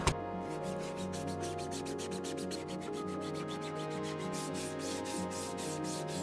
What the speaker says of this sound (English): wrap this sanding sponge with a 220 grit, like so, and just go to town like this